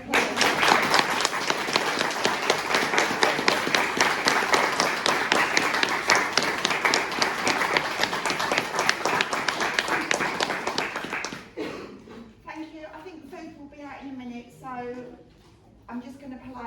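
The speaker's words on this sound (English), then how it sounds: "Can I have a round of applause?" Audience applause at a Home-Start charity AGM: dense, steady clapping from a crowd for about eleven seconds, then it fades as a person starts speaking.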